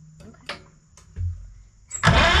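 A Farmall H tractor engine is cranked with the spark plugs removed for a compression test. There are short clicks and thumps, then a loud burst of harsh, rough mechanical whirring near the end, close up, with someone talking.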